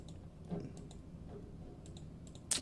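Faint, scattered clicks sound over a low room hiss, irregularly spaced, with one sharper click near the end.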